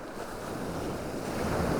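Ocean waves wash continuously on a shore, a soft, even broadband surf hiss with some wind noise, steady and unbroken, with no one speaking.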